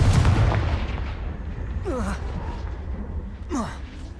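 A Confringo fire spell blasts in Hogwarts Legacy, giving a loud, booming burst followed by swooshing magical whooshes and rumbling reverberation across a few seconds.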